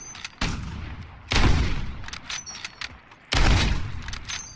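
Sniper rifle fire in a Call of Duty: Modern Warfare snipers-only match on the Rust map, with several sharp, booming shots spaced apart, two of them louder and followed by long rumbling tails.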